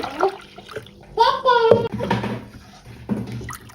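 Water, 800 ml, poured into a mixing bowl of batter for a homemade food, a brief rising, filling gush lasting about half a second, with a voice talking before and after.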